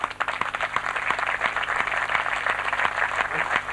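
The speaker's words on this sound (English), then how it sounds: "Let us have a great applause for" An audience applauds APPNA leaders at a Golden Jubilee gathering: a thick, continuous rush of many hands clapping, steady and fairly loud, with a faint regular tick running underneath throughout.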